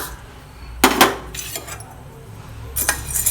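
One cup of roasted gram (pottukadalai) is poured into a metal pan for paruppu podi, with two short bursts of dry, rattling patter close by and quiet pauses between them, no talking.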